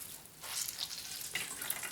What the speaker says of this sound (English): The juice is just pouring right out of here.